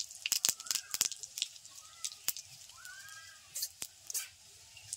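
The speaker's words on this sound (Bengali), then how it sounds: "ফোড়নে দিচ্ছি গোটা সাদা জিরে" Whole white cumin seeds sizzle in hot oil as a tempering for a Bengali prawn and green jackfruit dopiaza, giving faint, scattered pops and sharp crackles over a low, quiet hiss.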